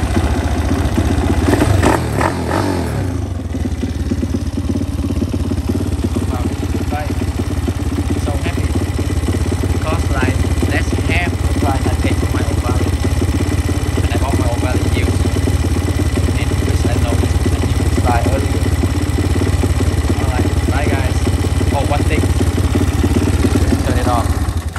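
A VMC MiniGP12 motorcycle engine runs at a steady idle, a close, loud, even putter with a light mechanical clatter throughout, after a brief louder burst at the start.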